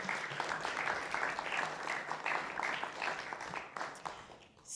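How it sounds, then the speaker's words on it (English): Audience at a Capture the Flag event gives a round of applause for sponsors, with steady, moderately faint clapping from a crowd that fades toward the end. "So one more round of applause for our sponsors,"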